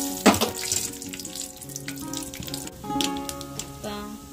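A spoonful of tempering seeds with cumin hitting hot oil in a pan, giving a steady crackling sizzle with a louder burst near the start, close and continuous under faint background music.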